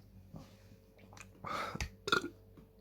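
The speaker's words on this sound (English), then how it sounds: "that's my burp" A single close, low burp rumbles out after some faint rustling, fairly quiet overall with no talking.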